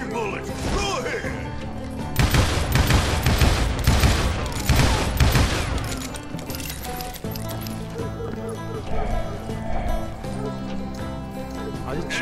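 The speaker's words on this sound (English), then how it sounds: "Waste your bullets. Go ahead." Rapid gunfire bursts and crashing impacts fill a firefight in the video game Call of Juarez Gunslinger, loud and continuous over game music, heaviest in the middle stretch.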